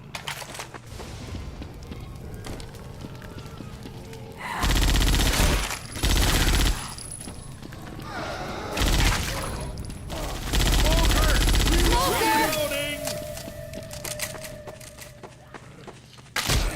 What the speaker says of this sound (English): The Uzi bolt pull sound is so satisfying.